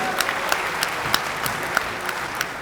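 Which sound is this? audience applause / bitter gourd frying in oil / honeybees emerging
audience applause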